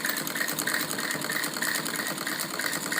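A sewing machine runs steadily up close, double-stitching a salwar seam with a fast, even mechanical chatter of needle strokes and a low motor hum throughout.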